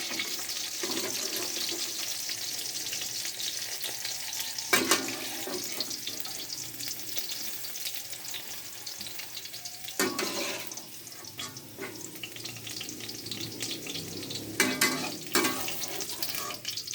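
Okra sizzling steadily in hot oil in a pan while vegetables are being fried, a continuous close hiss broken by a few louder bursts and scraping stirs, no voices.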